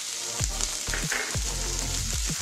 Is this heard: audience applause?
no